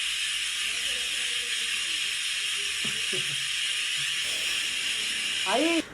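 Pressure cooker whistle releasing steam in a home kitchen, a loud continuous hiss throughout with a brief rising whistle tone near the end, while people talk faintly underneath.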